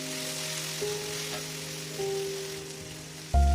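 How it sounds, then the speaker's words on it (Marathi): Okra frying in a pan, a steady broadband sizzle running throughout, with a louder clatter near the end as the vegetables are stirred. "आता भेंडी टाकल्यावर मस्त असे दोन मिनटापर्यंत छान फ्राय करायचं एकसारखं हलवायचं"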